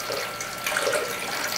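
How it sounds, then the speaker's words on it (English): Liquid is poured slowly into a blender while making bulletproof coffee, giving a brief, soft, steady trickle and splash heard close by with no talk. "I'm going to pour it in slowly or else it'll drip all over the place."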